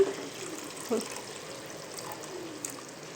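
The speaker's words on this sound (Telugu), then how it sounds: "కొన్ని వాటర్ కూడా వేస్తున్నా" Water poured into a cooking pot of tamarind fish curry with a brief splash, then a faint trickle, against a quiet room with a low voice.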